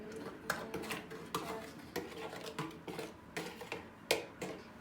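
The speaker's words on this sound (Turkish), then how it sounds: "Karıştıralım bunu." A spoon stirring carrot cake batter in a bowl, rhythmic scraping knocks against the bowl in a steady repeating pattern, close and moderately loud, with no voice.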